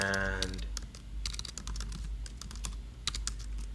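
Keystrokes on a computer keyboard while code is entered for a PHP file, a steady run of close, crisp clicks in irregular bursts across the whole stretch, with no talking.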